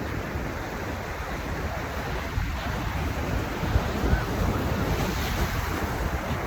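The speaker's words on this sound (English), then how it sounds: "So guys, I want to show you the ocean." Ocean waves wash onto a beach in a steady, continuous roar, with wind buffeting the microphone throughout and no voices.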